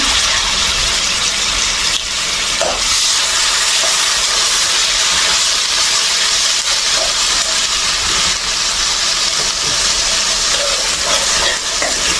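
Onion paste frying in a pan with black cumin seeds, giving a steady, close hiss and sizzle throughout with faint stirring clicks and no voices.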